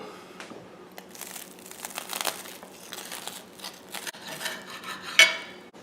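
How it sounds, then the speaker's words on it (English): Knife cutting through a golden-brown fried egg, tomato and cheddar melt sandwich, with crisp crunching and crinkling of toasted bread, then a sharp clink of the blade against the plate near the end. "Let's slice into it"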